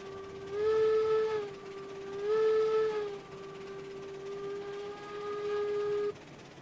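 Steam locomotive whistle in the RailRoads Online video game, three long, tonal blasts, the first two swelling loud and the last held longer, sounding alone with no voices.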